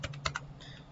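A few quick keystrokes on a computer keyboard as a command is entered in a terminal, soft close clicks in a brief cluster, then quiet.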